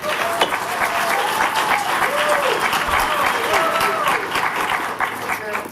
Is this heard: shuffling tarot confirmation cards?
no